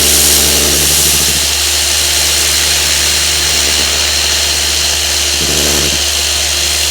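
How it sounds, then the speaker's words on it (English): A small air compressor drives a 10 Tools air gun blasting out a car polishing pad, a loud continuous roar of motor and rushing air with two brief surges in the blast. "here we've got the just a little air compressor here with the 10 Tools air gun on"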